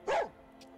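A dog in the Skyrim video game lets out one short, sharp bark near the start, then only a faint game background hum follows.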